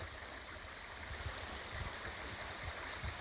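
Water in a creek flows in a steady wash with some low gurgling, heard outdoors at moderate distance and without talk.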